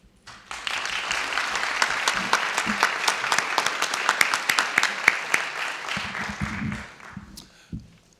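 An audience at a 2018 candidate forum bursts into applause after a speaker finishes, a thick steady clapping that swells, holds, then tapers off, with murmured talk near the end.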